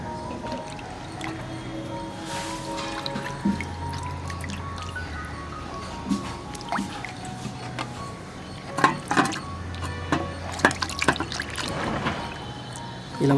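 Fish being washed by hand in water with turmeric, with soft splashing, dripping and squishing handling noises at close range, fairly quiet and irregular, with a few sharper knocks toward the end.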